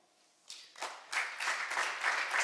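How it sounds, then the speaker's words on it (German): Audience applause breaks out at a German political panel discussion, starting sparse and swelling into steady, fairly close clapping that keeps building across the room. "Sie haben eben doch applaudiert."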